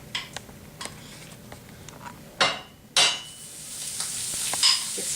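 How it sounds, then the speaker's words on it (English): Butter going into a preheated pan, a soft sizzle that rises after a couple of sharp hits, with scattered light ticks and clinks of cookware close by. "I've got my pan preheating, and in that pan we want to put a little bit of butter."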